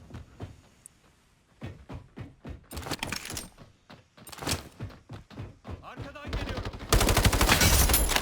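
Gunfire in the multiplayer game Battle Teams 2 comes as a series of sharp shots at first, then builds into clustered bursts and loud sustained automatic fire at the close.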